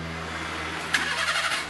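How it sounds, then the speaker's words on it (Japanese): A Daihatsu Copen engine, just fitted with new NGK iridium spark plugs, cranks briefly and catches, then settles into a low idle hum after a short burst. "おお、エンジンかかった。"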